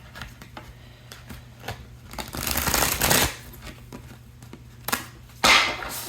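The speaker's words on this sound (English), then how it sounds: "These cards are not very easy to shuffle" Brisk riffling and flicking of playing cards being shuffled, a run of crisp papery bursts with a louder flurry in the middle and sharp snaps near the end.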